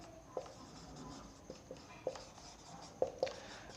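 Marker or chalk taps and strokes on a board during a chemistry lecture on Raoult's law, faint and close, a scattering of short scratchy ticks over quiet room noise.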